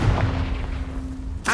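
A Confringo blast spell from Hogwarts Legacy erupts in a single booming explosion, close and loud, fading into a rumbling tail before a sharp new burst at the very end.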